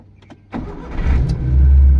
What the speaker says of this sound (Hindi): ऐसे करके गाड़ी आपकी स्टार्ट हो गई है